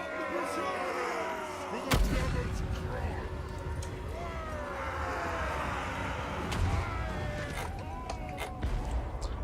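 Dwarf cannons firing during a Total War Warhammer battle against Bretonnia, a sharp booming shot standing out over a steady din of battle noise and distant clashing, with speech running through.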